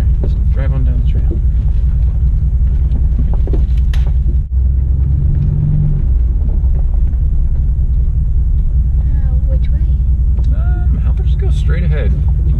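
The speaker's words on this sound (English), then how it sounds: "There, just drive on down the trail." A vehicle rolls slowly down an off-road trail through trees, its engine a steady low rumble throughout while people talk over it.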